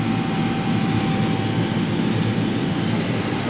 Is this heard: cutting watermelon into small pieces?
no